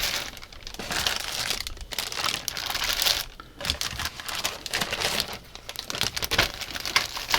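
Plastic bags holding flesh-toned styrene model kit parts crinkle and rustle up close, loud bursts of crumpling with brief pauses between handlings.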